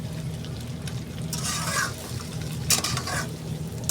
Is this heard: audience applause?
no